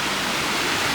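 Clear mountain stream rushing near the North Fork of the Flathead River, a steady broadband wash of flowing water heard close and alone with no voices.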